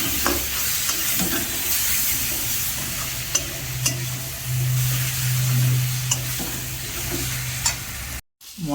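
Spices with chili powder stirred and frying in a pan, a steady sizzle with repeated scraping strokes of a spoon close by, briefly cut off near the end.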